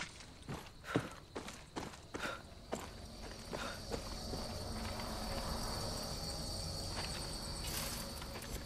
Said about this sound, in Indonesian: Agak ada kuda lagi di sini.